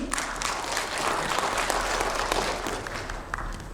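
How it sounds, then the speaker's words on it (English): An audience gives itself a round of applause, a broad, steady spread of clapping from a sizeable crowd, moderately loud and sustained, with a low hum underneath and no talking. "please give yourselves a big round of applause"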